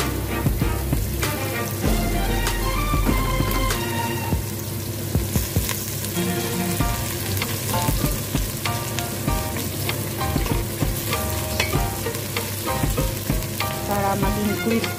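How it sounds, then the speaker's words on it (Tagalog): Tall onion coated in corn starch frying in hot oil, a steady bubbly sizzle with crackles throughout, close and fairly loud, with faint background music tones and no speech. "Ayan, mainit na po yung mantika. I-fried na po natin itong tall onion"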